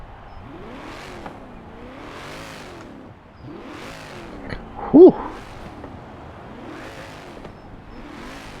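A 1996 HSV GTSR muscle car engine in Forza Horizon 4 revs repeatedly in rising and falling surges, deep and throaty, with a short exhale-like voice sound in the middle.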